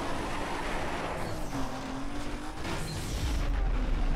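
Toyota Supra driving in Need for Speed Most Wanted, a steady engine drone with tire and road rumble that swells louder toward the end, with no talking.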